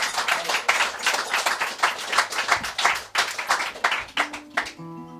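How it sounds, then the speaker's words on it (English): A pub audience claps and applauds a performer, a dense, steady burst of many hands close by that runs for several seconds before thinning out near the end. "So give him a big round of applause"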